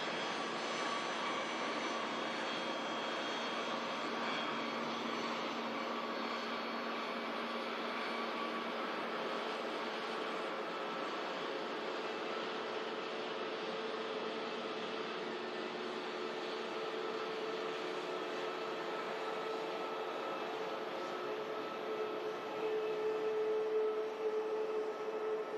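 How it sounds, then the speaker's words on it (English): Jet airliner on a Delta Atlanta routing taxiing behind the NATS control tower at Manchester Airport, a steady far-off engine roar with a constant hum that stays even throughout and has no talking over it. "Just going to capture this Atlanta routing as it passes behind the Nats Tower here."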